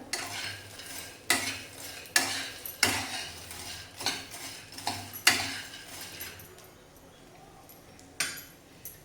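Poppy seeds roasting with edible gum in a pan, stirred with a metal spoon that scrapes and clinks against the pan in a quick, irregular run of strokes, close and fairly loud, then thinning out toward the end.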